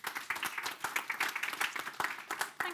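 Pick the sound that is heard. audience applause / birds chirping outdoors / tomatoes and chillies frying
audience applause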